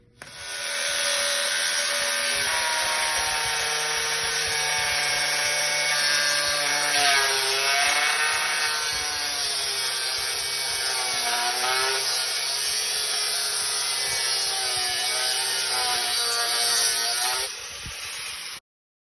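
A United Abrasives SAIT cutting wheel slicing through 2.5-inch by 1/4-inch thick carbon steel plate, a loud continuous high-pitched grinding whine with wavering pitch that holds for about seventeen seconds before tapering off, with no talking.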